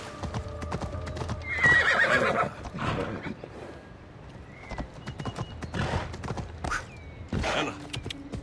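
Horse hooves clip-clop on hard ground while a horse snorts and whinnies loudly, with scattered thuds and movement around it, in the video game Assassin's Creed Odyssey.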